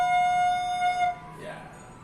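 A recorder sounds a single sustained note, fa, played with the right index finger over the fourth hole, held steady for about a second before it stops and leaves a soft room tone.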